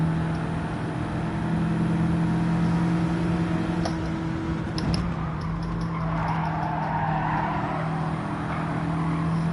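A race car's engine drones steadily at high revs during a Gran Turismo 7 manufacturer race, a loud, continuous buzzing whine with slight pitch shifts and brief tire noise midway.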